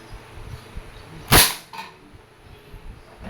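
A Crosman Phantom P10 airgun fires once at a tin can two to three meters away. The shot is a single sharp, loud crack, followed by a faint metallic tick, amid quiet background rustling.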